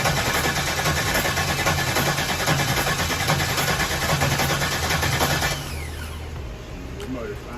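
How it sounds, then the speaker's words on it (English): A cheap Chevrolet Corvette C5 engine, suspected of water in the cylinders, cranks over in a fast rhythmic whir that runs steadily for several seconds, then stops and leaves a quieter drone. "So yeah, motor spins."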